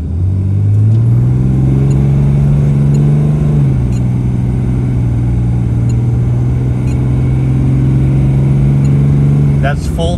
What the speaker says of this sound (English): That's full throttle to 70.